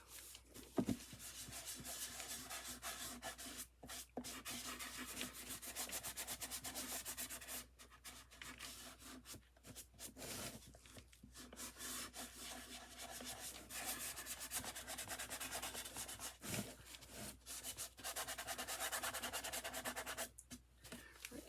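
Wax is rubbed by hand onto a vintage wooden sewing box, a steady close, soft scrubbing and rubbing that continues with only brief pauses throughout.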